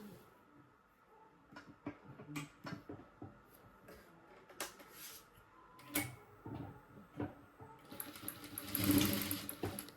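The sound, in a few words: sewing machine stitching three blouse pieces together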